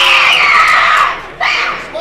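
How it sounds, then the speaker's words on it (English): A youth girl fencer screams in victory after landing a foot touch in a women's épée final, a loud sustained high-pitched yell over crowd noise that fades, then a second burst of shouting. "screams in victory as she makes a fantastic foot touch"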